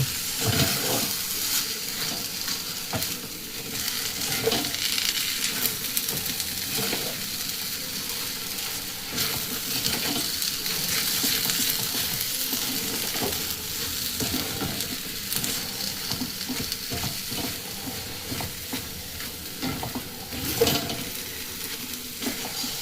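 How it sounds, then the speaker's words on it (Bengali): Steady sizzling of salted green peas frying on medium-low flame in a wok, a continuous crackling hiss with occasional stirring scrapes, close and fairly loud, no voices. "এই কড়াইশুঁটি বা মটরশুঁটি একটু মিডিয়াম টু লো ফ্লেমে এইভাবে কিন্তু ভেজে নিতে হবে"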